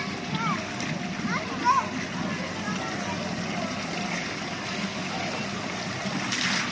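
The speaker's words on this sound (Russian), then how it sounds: "Кто не успел на море на автобус, плескается в бассейне." People splash in a shallow hotel swimming pool on a hot day, with soft water splashes under distant voices and children's chatter, heard across a constant outdoor background.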